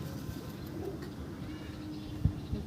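Desi and Madras pigeons coo softly in a loft. The low, murmuring calls are fairly quiet and continuous, and a couple of small knocks come near the end.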